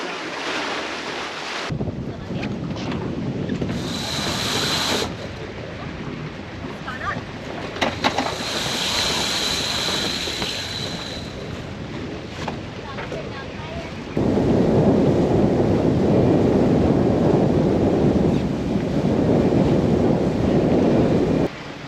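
Strong wind buffets the microphone while waves slosh and surge against a sailing boat off Cape Bedford in north Queensland in 25-knot winds and lumpy seas, a loud, steady roar that grows heavier partway through.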